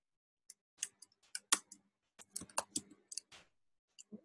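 Typing on a computer keyboard while coding in Swift, heard as scattered, fairly faint key clicks in irregular bursts, with no talking.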